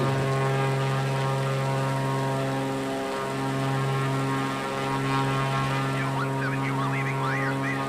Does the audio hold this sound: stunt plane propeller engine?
yes